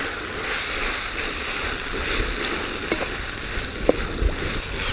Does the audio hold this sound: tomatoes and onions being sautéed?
yes